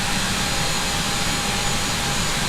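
Steady roar of Boeing 737-800 jet engines in the X-Plane flight simulator, a constant broadband rumble and hiss with a faint tonal whine, loud and unchanging throughout.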